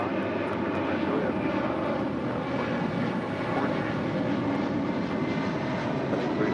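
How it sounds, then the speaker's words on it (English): A McDonnell Douglas MD-11 jet rolls down runway 25 right at LAX, heard as a steady, broad engine roar that holds level throughout, with no voices over it. "swing the camera over as the MD-11 now rolling down 25 right"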